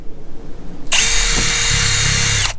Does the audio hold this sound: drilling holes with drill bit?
yes